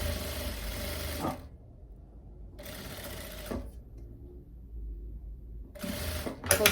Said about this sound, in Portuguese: Costuro só aquela pontinha